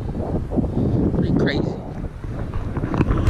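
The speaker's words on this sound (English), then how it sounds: "A little windy, so excuse the wind." Heavy wind buffets a microphone outdoors at night near the Korean Friendship Bell by the sea, rumbling steadily under a man's brief spoken remark.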